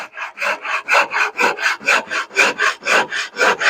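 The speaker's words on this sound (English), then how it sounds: "the rough surface that the chisel left behind is being refined flat with this rasp" A hand rasp files the chisel-roughened surface of a long wooden stair spindle being carved into a spiral, in steady rhythmic back-and-forth strokes, about three per second, close and loud with no talk.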